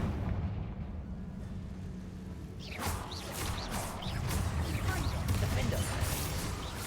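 A Confringo fire spell explodes in the video game Hogwarts Legacy, with a rumbling blast followed by crackling, whooshing bursts and lingering debris noise over constant game ambience.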